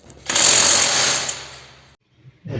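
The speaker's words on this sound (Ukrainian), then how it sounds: "як ви бачите, гайкокрут вправляється" STARK CIW-2090 B impact wrench loosening rusty wheel nuts on a car, a loud, close, hammering burst of rapid rattling impacts lasting about a second and a half before cutting off, then a brief restart.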